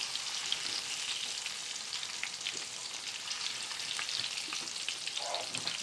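Pomfret fillets fry slowly in oil in a pan, giving off a steady, close sizzle with soft crackles that runs unbroken from start to finish, with no one talking.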